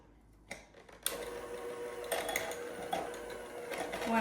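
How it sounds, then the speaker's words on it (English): An electric mixer beating butter and sugar in a bowl, a steady whirring motor hum that starts abruptly and runs on with brief rattling bumps, close by and without talk. "I have the butter and sugar in here, and I'm gonna beat that"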